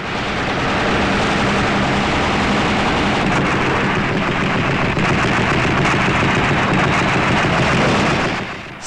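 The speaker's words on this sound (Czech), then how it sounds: "Střelba prostředků protivzdušné obrany zabránila nepříteli přesně zasáhnout cíl." Air defence guns on a 1984 Czechoslovak military exercise, with pontoon river crossings under enemy air attack, keep up dense continuous fire, a loud, unbroken rattling roar of overlapping shots lasting several seconds.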